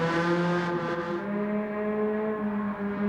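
Exterior engine sound of a Honda car in the video game Gran Turismo 7, a loud, steady, high-pitched engine drone with a slight dip in pitch partway through, heard without any talk.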